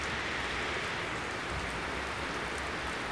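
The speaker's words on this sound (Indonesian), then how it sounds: "Ini kondisinya hujan di sini." Rain falls steadily on plastic sheeting stretched over grape vines in a rainy-season vineyard, making a dense, even hiss with no pauses and no voices.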